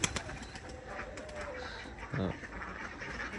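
A soft, low pigeon coo sounds briefly amid quiet background noise, faint and somewhat distant, from a village pigeon house.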